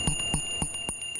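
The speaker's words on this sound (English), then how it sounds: "The Salvation Army's bell ringers are out in full swing" A Salvation Army bell ringer's hand bell rings out during the holiday season in quick, even strikes, four or five clangs about a quarter second apart, clear and near, over a faint steady hum.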